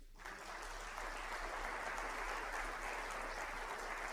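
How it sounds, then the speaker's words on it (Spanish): A church congregation applauds steadily through a sermon, a sustained, fairly distant wash of clapping with no talk. "Le da un aplauso al Señor."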